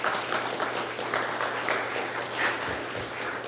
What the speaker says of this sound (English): Let's give the chief and the police department a big round of applause.